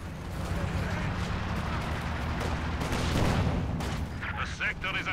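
An artillery barrage in Company of Heroes 2, with dense rumbling blasts and gunfire rolling continuously, loud and close, under a voice talking throughout.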